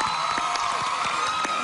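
Audience applause and cheering at a televised music competition, a dense, steady wash of clapping and crowd noise that stays loud and continuous from start to finish.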